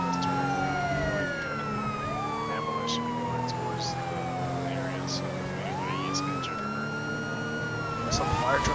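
In the video game GTA V, with the LSPDFR police mod and a sheriff unit on scene, sirens wail in sweeping up-and-down tones over a low rumbling engine. Several sirens overlap at a moderate level.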